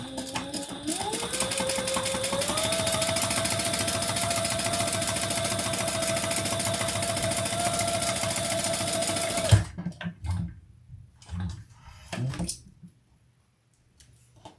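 Home sewing machine stitching a slip pocket into a handmade wallet, a steady fast motor whir with rhythmic needle clatter running continuously for about nine seconds, then stopping, followed by scattered handling clicks and fabric rustles.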